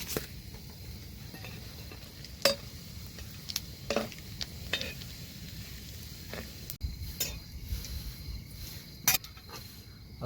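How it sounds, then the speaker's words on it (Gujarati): Tempering spices crackle and sizzle in hot oil for a paneer curry, a low steady frying hiss broken by sharp ladle clinks and stirring taps scattered throughout, with no talking. "તેલ આવી ગયો, વઘારનો મસાલો નાખી દઈ."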